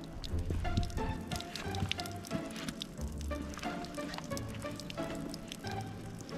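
Icy glacier meltwater gushing from an open tap on the trek toward Everest Base Camp, a steady splashing patter with irregular spattering, fairly close and continuous throughout.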